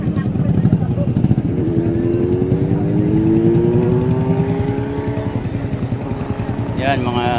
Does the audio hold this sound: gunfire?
no